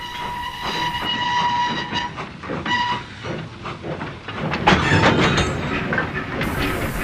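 A steam train rumbles and clanks along the rails, with a whistle sounding early on and steady mechanical chugging throughout.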